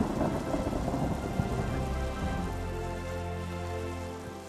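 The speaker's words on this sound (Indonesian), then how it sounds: "hujannya makin deras banget" Heavy rain pours down steadily during an outdoor downpour, a dense, loud wash of rain with low thunder rumbling beneath it and no voices.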